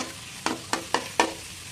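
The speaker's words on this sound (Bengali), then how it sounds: "তেলে চিংড়ি মাছগুলো ফ্রাই করে নিচ্ছি" Prawns frying in hot oil in a wok, giving four evenly spaced crackling bursts against a low steady background, with no voices.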